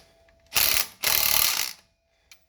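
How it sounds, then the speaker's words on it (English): Small impact wrench driving bolts on a water pump spacer kit install, two loud close bursts of rapid hammering, the second longer, then a faint click. "And then I cheat with this impact here, a little small one here."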